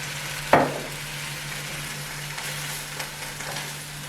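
Spinach sautéing in oil for Korean japchae, a steady low sizzle with a sharp clatter of stirring near the start and a few soft taps later, with no talking.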